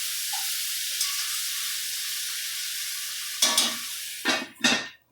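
Food sizzles steadily in a pan once the lid is lifted, with a loud crackling surge and then two more bursts of frying near the end, close and with no talking.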